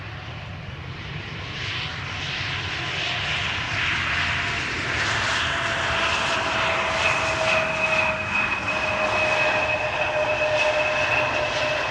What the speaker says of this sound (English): This is KLM flight 1782, Embraer 175 arriving from Hamburg.